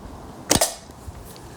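A single sharp shot from a Reximex Mito PCP .22 air pistol, fired by hand outdoors on a cold day, close and crisp with a brief pneumatic crack and quick decay.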